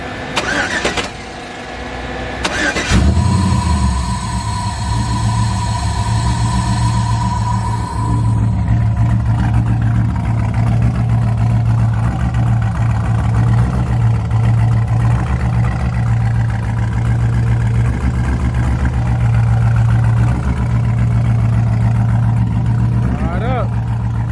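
An engine cranks with a key, catches, and settles into a loud, steady droning idle as it warms up, with a person talking over it.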